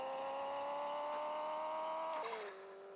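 Hot pink RX-8 engine in the Pixel Car Racing game, a loud steady high-pitched drone held for over two seconds, then a sudden drop in pitch and volume as it shifts down to a lower, quieter hum.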